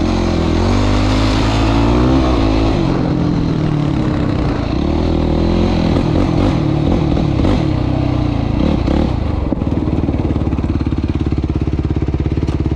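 A quad's engine idles and revs loudly up close, a steady rough throbbing drone with pitch rising and falling as the throttle is worked, some mechanical clatter underneath.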